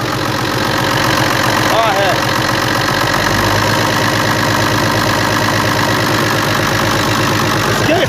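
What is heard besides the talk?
FNM 180 truck engine idling after three years parked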